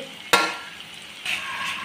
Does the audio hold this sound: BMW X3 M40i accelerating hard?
no